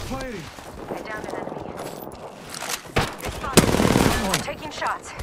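Bursts of gunfire in Apex Legends, with rapid automatic volleys and sharper single cracks growing louder toward the end, while players talk over the shooting.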